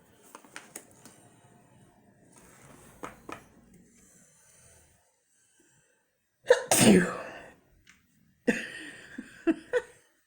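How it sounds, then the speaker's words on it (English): Several loud, close sneezes burst out one after another, separated by short quiet gaps, after some soft rustling and tapping. "I literally have not sneezed and now I can't stop."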